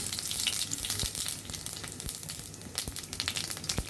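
Bay leaf and cumin seeds crackle and sizzle in hot white oil for a khasi rezala curry, a dense close hiss scattered with quick sharp pops throughout.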